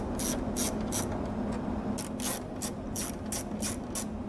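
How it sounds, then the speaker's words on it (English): A ratchet loosening a bolt on the lower quarter panel of a crashed McLaren 650S Spider: close, crisp clicking in quick repeated bursts of strokes, with brief pauses between them and no talk. "there's one bolt right here on the side, and it should come off"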